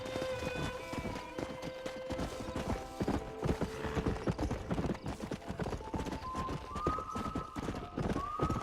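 Stallion hooves in the Red Dead Redemption video game clop steadily along at a trot, a close, even rhythm of hoofbeats with soft musical tones underneath.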